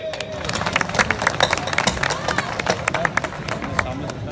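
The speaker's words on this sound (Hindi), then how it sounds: "आप लोग इस पर तालियां दें।" Audience applause at a public gathering for a Meo community address, dense rapid clapping from many hands filling the space with crowd murmur underneath, steady and fairly loud throughout.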